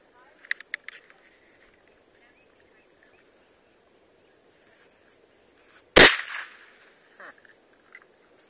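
A single sharp, loud gunshot from an M1 Carbine or AR-15 rifle at an outdoor range, preceded by faint clicks and followed by brief quiet talk.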